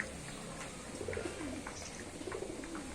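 Racer pigeons coo softly in a loft, low repeated rolling calls rising and falling over steady background hiss, with no talking.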